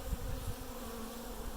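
Honeybees from a newly installed hive drone around it on early-morning orientation flights, a steady close buzzing hum with occasional louder passes near the listener.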